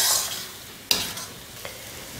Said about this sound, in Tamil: கத்திரிக்காயும் முட்டையும் கிளறியாச்சு.